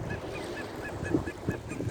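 Geese honking in a public park, a steady run of repeated nasal honks at moderate distance with light background noise.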